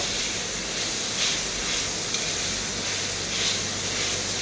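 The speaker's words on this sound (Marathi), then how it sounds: "आता कारलं भाजून घेते सतत हलवत" Grated bitter gourd (karela) roasts in a pan, giving a continuous hissing sizzle with faint scraping swells as it is stirred, steady and close.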